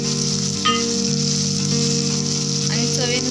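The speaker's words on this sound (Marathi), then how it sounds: "त्याला एकदम छान फ्राय करून घेऊया आपण" Pomfret fish fries in a pan with turmeric, coriander powder and fish fry masala, giving a steady, loud sizzle throughout with a few brief clinks of a utensil.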